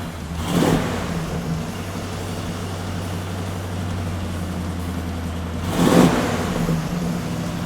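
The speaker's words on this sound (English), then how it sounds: "Today we got our 1970 Superbird on our dyno." 1970 Plymouth Superbird with a 440 engine and fast fuel injection running on a dyno, a steady close engine drone with two sharp revving surges near the start and end.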